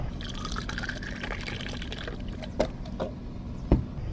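Water pours and trickles steadily into the tank of a small sprayer being converted to a battery pump, for several seconds, with a few soft splashy knocks near the end.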